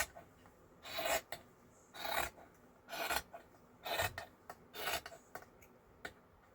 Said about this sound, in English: All right, so now we're gonna cut.